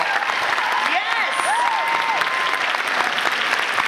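A convention crowd in Liverpool applauding cosplayers, a loud continuous wash of clapping and cheering with whistles and voices mixed in.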